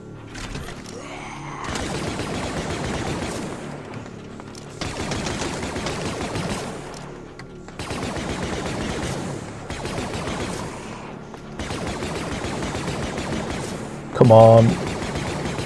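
Sustained automatic blaster gunfire in the Star Wars zombie horror game Deathtroopers comes in long, steady bursts broken by short pauses, loud and close, while a voice speaks briefly.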